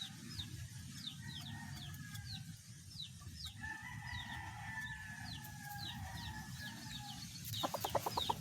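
Chickens cluck softly on a farm, repeated short calls over a low steady background rumble, with a louder burst of flapping or scratching near the end and no speech.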